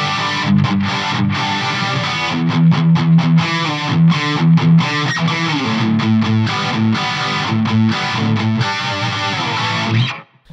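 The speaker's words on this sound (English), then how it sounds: "So mod, you click your little power thing here and it turns your modulation on" Distorted electric guitar through a Nembrini Audio MP1 Pro programmable tube guitar amplifier with modulation on, an 80s hair metal tone: loud, continuous chugging riffs and chords with a chorused shimmer, played alone for about ten seconds.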